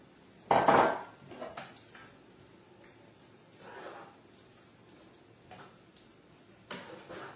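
Cooked chickpeas tipped into a cooking pot for a winter vegetable curry, starting with one sharp clatter against the pot, then a few softer clinks and rustles that fade to quiet.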